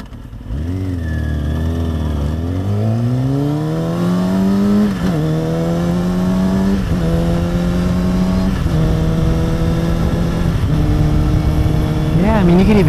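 A freshly tuned-up motorcycle engine roars up through the gears as the bike rides, the pitch climbing and dropping with each shift, loud and close.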